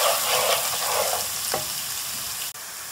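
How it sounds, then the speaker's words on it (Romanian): Garlic and ginger sizzle steadily in hot oil while being stirred, with scraping strokes and a short sharp clatter near the end; no talking. "vom pune usturoiul și ghimbirul și vom amesteca bine"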